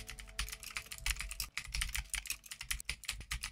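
Fingers type quickly on a computer keyboard while entering a text prompt, giving dense, close, rapid clatter with brief pauses between bursts and no speech.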